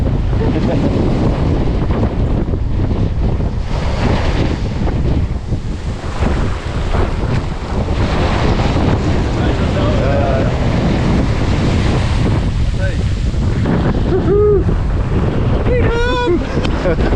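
Strong wind buffets the microphone on a beach during galjoen fishing, a loud constant roar mixed with surf, while voices call out faintly and a few brief shouts rise near the end.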